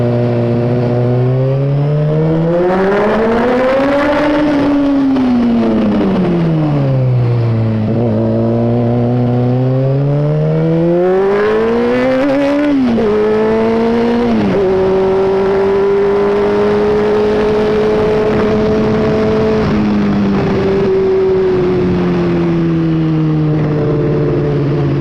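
A Honda CBR600F motorcycle engine revs up and down repeatedly, loud and close, its pitch rising and falling before settling into a steady idle.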